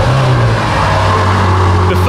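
A BMW M5 with a 4.4-litre twin-turbo V8 and M Sport exhaust idles loud and close just after starting, a deep steady engine rumble with someone talking over it.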